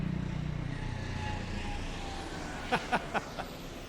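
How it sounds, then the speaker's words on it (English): A low, steady engine rumble from a helicopter flying overhead during a street parade drones throughout, with a few short sharp knocks near the end. "Here comes the Parkview helicopter back again."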